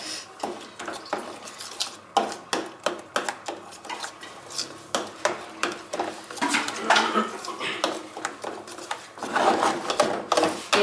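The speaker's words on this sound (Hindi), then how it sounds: "हम लोग इसको अच्छी तरह से मिक्स कर रहे हैं ताकि सब मसाले एक जैसे हो जाएं।" Hands mix spice masala into fish pieces in a bowl, a rapid rhythmic series of wet clacks and squelches, close and fairly loud, with no talking.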